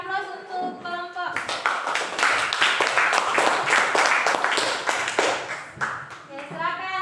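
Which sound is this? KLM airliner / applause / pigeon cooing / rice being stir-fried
applause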